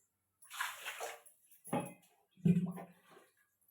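Water is poured from a vessel into a pressure cooker holding tomato rice, coming in three short splashing pours separated by pauses, close and fairly soft with faint metallic clinks.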